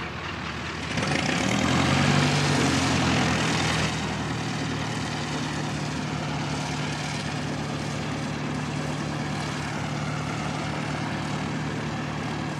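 Propeller trainer aircraft engines run at Christchurch Airport, New Zealand, a continuous droning hum with a steady tonal whine that swells louder for the first few seconds, then settles to an even level.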